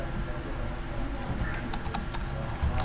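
Code is typed on a computer keyboard while building a bus booking web application, with a brief cluster of quick key clicks over steady background noise, close but not loud, and no talking.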